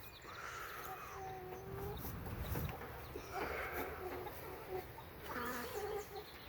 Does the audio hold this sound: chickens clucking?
yes